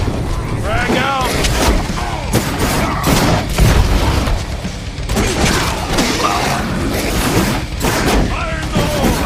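A frag grenade explosion and heavy gunfire during combat in Werewolf: The Apocalypse - Earthblood, with dense booms and rapid shots layered over shouted voices, loud and chaotic throughout.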